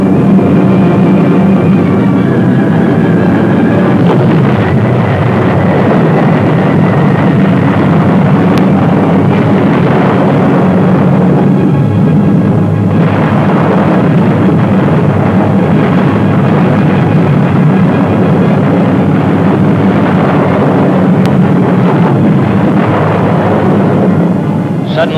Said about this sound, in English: 8th Air Force bombers pushed through to deliver our knockout punch.